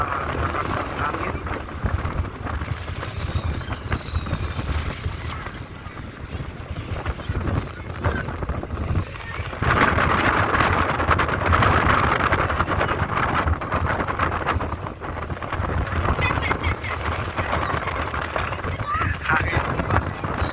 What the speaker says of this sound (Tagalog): Gaano malakas ang hangin.